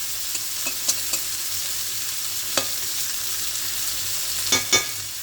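Hilsa fish fries in hot oil with a constant, moderately loud sizzle, broken by a few soft pops and clicks from the pan.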